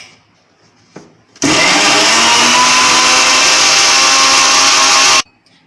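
Mixer grinder jar blending watermelon into a smooth paste, a loud steady motor whir running about four seconds alone, with a short clatter before it starts and abrupt stop.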